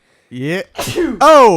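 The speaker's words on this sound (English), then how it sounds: "about to sneeze, so I'm trying to catch myself." A person sneezes, a gasping intake followed by a loud burst and a drawn-out vocal exclamation, close and alone, with a brief spoken word in between.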